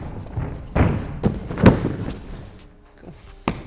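Landing thuds from dive rolls in a tumbling session, a few heavy close thumps with softer impacts between, no talk.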